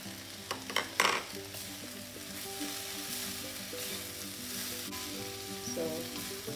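Mint leaves (pudina) and coconut sizzling with softened tomatoes in a pan while being stirred, a couple of clinks early on, then a soft steady frying hiss with a faint background hum.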